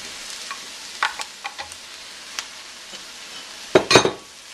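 Ribeye steak meat frying with mushrooms in a pan, a soft, low sizzle under scattered utensil scrapes and clicks, ending in a louder burst of stirring.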